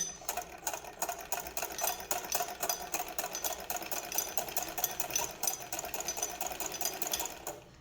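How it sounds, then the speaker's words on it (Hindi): A sewing machine stitches a hem on cloth in a quick, steady, rattling rhythm, close and continuous throughout. "इसी तरह हम यहाँ से भी सिलाई करेंगे।"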